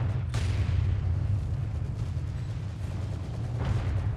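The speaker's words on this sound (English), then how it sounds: "I wonder why he keeps sending in his mortars all the way to the front line. He's barraging from a distance." Distant artillery rumbles in Company of Heroes 2 as a mortar barrage falls, a steady low booming roar with two sharper crumps near the start and end, no voices.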